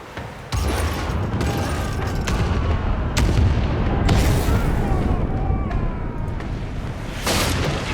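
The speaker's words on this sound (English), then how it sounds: "Our cannon fire tears through the enemy ship, splintering the hull and shredding the sails." Repeated heavy cannon blasts from a ship's port broadside in a video game naval battle, loud booming volleys of gunfire rolling one after another with crackling impacts over a continuous din.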